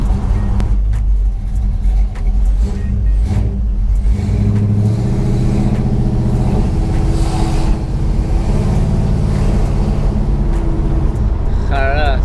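An engine, apparently a Nova, running steadily after a carburetor repair, a loud close rumble with some revving, heard under someone talking throughout.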